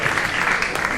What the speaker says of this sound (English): Now you can give a round of applause